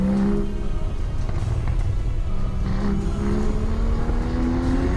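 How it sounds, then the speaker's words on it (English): A Porsche Boxster Spyder with the roof down accelerates around a race track, its engine droning loudly and steadily with a rising pitch as it pulls through the gears. "the engine sounds so good, especially with the roof down"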